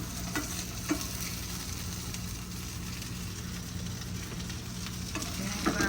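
Shrimp frying in a pan with a slightly burnt sauce, a steady close sizzle with a few soft stirring knocks and no talking.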